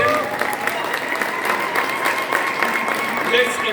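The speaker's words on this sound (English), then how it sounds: "a round of applause. Our new authors." An audience at a high school opening ceremony applauds new authors, dense continuous clapping from a sizeable crowd with scattered voices, steady and moderately loud throughout.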